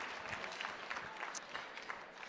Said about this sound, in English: So give them all a round of applause.